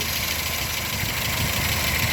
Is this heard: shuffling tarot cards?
no